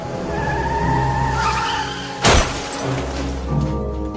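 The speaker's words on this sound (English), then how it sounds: "Suddenly, his car hits a tree." A car skids and slams into a tree on a dark night: a sharp broadband impact bursts out midway through the clip, set against a steady engine drone that briefly cuts out and then returns.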